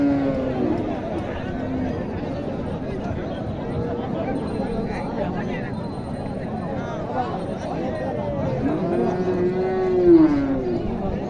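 Cattle, including cows, low and moo amid a busy livestock market crowd, with people talking throughout and a louder bellow near the end.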